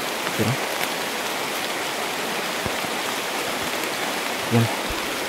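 Steady rain falls through a bamboo grove in the forest, a dense even hiss throughout with a couple of brief low thumps near the start and end.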